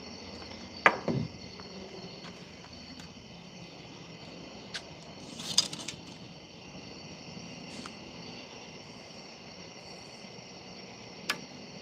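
Faint, steady crickets chirp through a quiet night outdoors, broken by a few sharp knocks and thuds at scattered moments.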